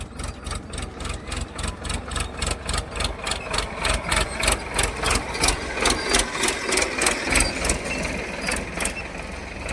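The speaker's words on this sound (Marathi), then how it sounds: "बघा आलंय चिचाचं ट्रॅक्टर" A tractor engine chugs steadily near an onion field in rapid, even pulses, loud and close, with no talking.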